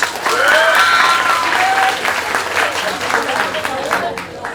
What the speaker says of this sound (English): No, give yourself a round of applause like you mean it.